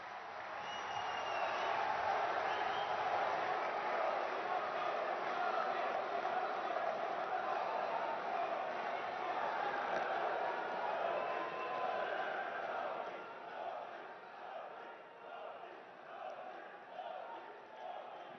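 A large crowd applauds steadily to welcome Prime Minister Modi at an event inaugurating the Vande Bharat Express and Ahmedabad Metro Rail project. The clapping is dense and sustained, then thins and ebbs toward the end.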